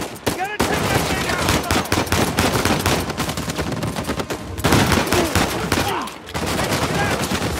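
Sustained bursts of mounted turret machine-gun fire from Uncharted 4, loud and dense with rapid overlapping shots, briefly broken by short gaps between volleys.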